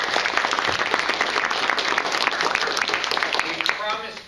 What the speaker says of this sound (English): So let's give a round of applause to all of you.